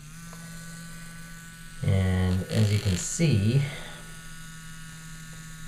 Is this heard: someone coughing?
no